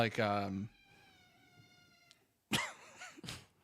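A cat gives a drawn-out meow, then after a quiet pause lets out two more short, wavering meows close by.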